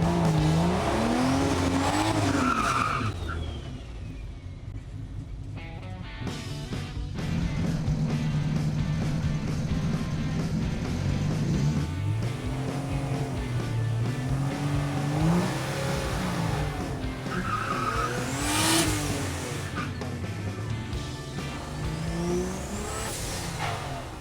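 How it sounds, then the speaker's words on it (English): A turbocharged 292 inline-six in a lowered 1965 Chevy C10 pickup roars down a track, revving hard through repeated gear changes with rising and falling engine pitch, tire squeal and some faint wind. "about to run a little C10 down the track and see how fast it goes."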